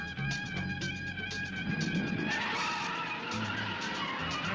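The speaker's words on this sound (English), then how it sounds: "You guys are gonna hear my engine." A car engine revs loudly up close with rising whining tones, mixed with the squeal of skidding tires, continuous for a few seconds.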